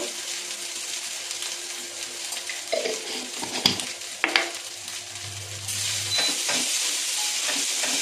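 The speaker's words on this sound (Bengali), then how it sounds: "মশলাটা বেশ ভাজা ভাজা হয়ে গেছে এবং খুব সুন্দর একটা গন্ধ বের হচ্ছে" A paste of ginger, cumin and green chili with a pinch of turmeric fries and is stirred in a pan. There is a steady soft sizzle with a few clinks and scrapes from a utensil, and no one talks.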